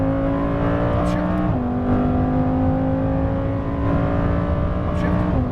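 A Lamborghini Huracan Performante accelerates hard around a racetrack, its engine note climbing steadily before dropping sharply at each upshift, twice in quick succession, loud and close, while an instructor talks over it.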